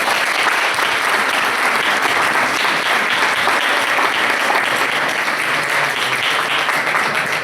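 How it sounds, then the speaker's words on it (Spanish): Sustained audience applause at a conference lecture in Spain, steady dense clapping that holds at an even level throughout, with no voices breaking through. "Un fuerte aplauso para él."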